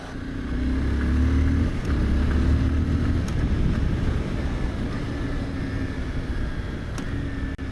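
A motorcycle engine drones loud and close while riding, the pitch dropping and shifting as the rider downshifts, with wind rush over the steady rumble.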